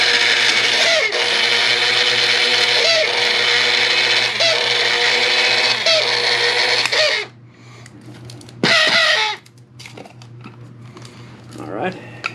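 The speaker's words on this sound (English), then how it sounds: "Coffee grinder here. That sounds like it's about dead." A worn-out coffee grinder, struggling and close to failing, grinds a homemade smoke bomb mixture with a loud, strained whirring buzz for about seven seconds. After it stops comes a second short burst, then quieter handling noises.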